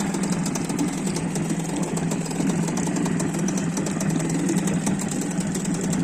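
A Hidea 6 two-stroke outboard motor runs at a steady idle on its first start, a close, even, buzzing drone with a fine rapid pulse that holds unbroken throughout, relatively quiet for its type.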